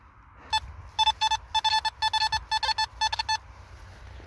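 Metal detector search for 18th-century finds gives a clear series of repeated electronic beeps, about eight short tones in quick pairs and bursts, loud against low ambient rumble.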